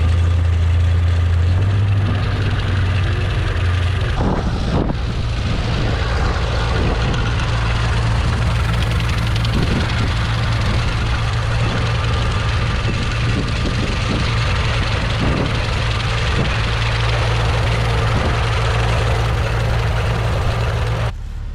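An old hay mower engine runs on a farm with a loud, steady low drone that never lets up, and faint clicks and rattles come and go over it.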